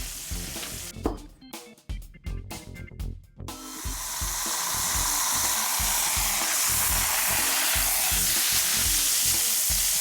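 Steak sears in a hot pan, with a few sharp scraping knocks as it is pressed down from above, then a loud, steady, close sizzle that holds alone.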